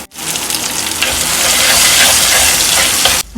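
Ginger and garlic fry in a pan with a loud, dense sizzle, close and continuous, swelling slightly in the middle before cutting off abruptly.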